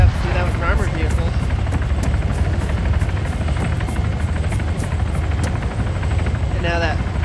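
A helicopter's steady rotor drone and engine rumble fill the scene, loud and continuous, with game sound effects and faint voices layered over it, from the video game Arma 3.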